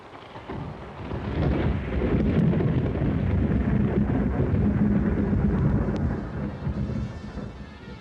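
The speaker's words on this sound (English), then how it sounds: "The children slept well while the storm raged above them." Thunderstorm sound effect in a 1983 radio drama adaptation, a long rolling thunder rumble swelling and fading, with rain and wind hiss underneath, no voices.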